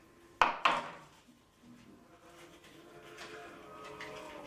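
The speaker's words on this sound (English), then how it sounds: "Chop them up." Knife chopping serrano peppers on a cutting board: two sharp close knocks in quick succession, followed by quieter kitchen handling sounds.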